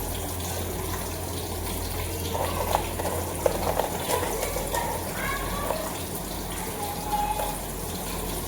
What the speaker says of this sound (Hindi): इसमें जो है रिफाइन के अंदर मैं प्याज तलूंगी